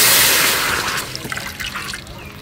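Water poured into a cooking pot, a steady rushing splash that starts loud and gradually thins into a lighter trickle with small gurgles.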